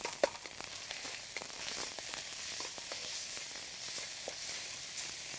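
Sugar and soy sauce sizzle in a hot wok for Vietnamese chicken fried rice, a steady bright hiss broken by light clicks and scrapes of stirring, close and moderately loud with no talking.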